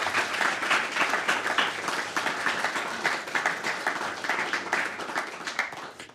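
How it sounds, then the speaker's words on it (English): A meetup audience on net zero gives its panel a final round of applause, a steady dense patter of many hands that holds for about six seconds and fades slightly at the close. "if I could have a final round of applause for our brilliant panel"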